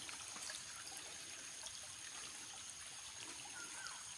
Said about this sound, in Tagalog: Ayun, sapa po yun.